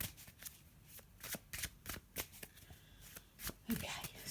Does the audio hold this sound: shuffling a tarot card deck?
yes